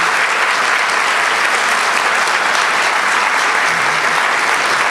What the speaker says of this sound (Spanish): Vamos a pedir que se ponga de pie y un aplauso fuerte.